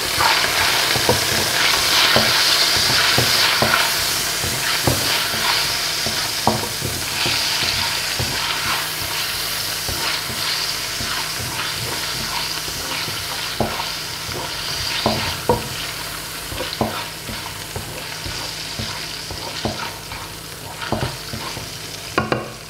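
Thin slices of vegetable fry in a pan with a continuous bright sizzle, interrupted by repeated sharp knocks and scrapes from stirring. Nobody talks.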